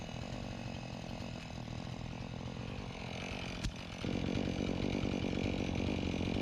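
A chainsaw cuts a tree into firewood-sized pieces. The engine drones continuously at close range and deepens and loudens partway through as the chain bites into the wood.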